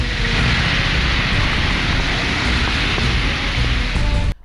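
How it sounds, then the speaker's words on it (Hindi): Heavy rain pouring steadily during flooding in Etah, Uttar Pradesh, a loud continuous broadband hiss of downpour that cuts off abruptly near the end. "यूपी के एटा में 10 मिनट की तेज बारिश ने मुख्यमंत्री योगी के कार्यक्रम को फीका कर दिया"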